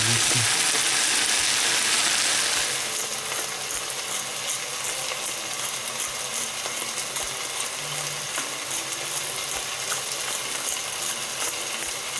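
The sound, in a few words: mushrooms frying in pan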